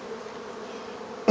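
Honeybees buzz around an open hive during a honey harvest, a steady close drone that runs alone until a sudden louder sound cuts in at the very end.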